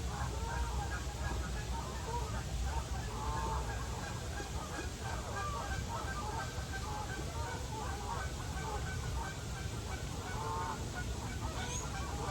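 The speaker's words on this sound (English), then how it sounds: "A goose is approaching them." Geese honk repeatedly over a steady, noisy outdoor background, the calls coming in scattered clusters at moderate distance, with some voices mixed in.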